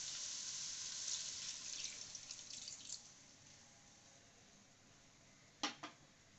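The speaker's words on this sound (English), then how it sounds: "Now to this we'll add in half a glass of water." Water poured from a glass into a pan of paneer butter masala, a hissing splash that fades over a few seconds, followed by two short sharp clinks near the end, close and without talk.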